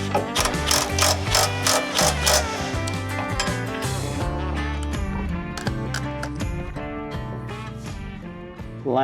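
A socket wrench with a 17mm socket ratcheting an M10 bolt while fitting a fuel tank skid plate on a 2020-or-newer Ford Super Duty pickup: loud, close, rapid clicking bursts, then steadier metallic turning, with no talk.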